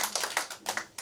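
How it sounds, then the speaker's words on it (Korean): A few sharp, close hand claps in an irregular rhythm, given as applause for God during a Korean Christian leaders' New Year worship service, heard briefly and without speech. "우리 하나님께 영광의 박수를 한번 드립니다."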